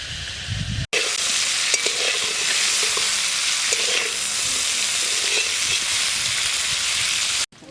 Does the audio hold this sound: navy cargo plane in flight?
no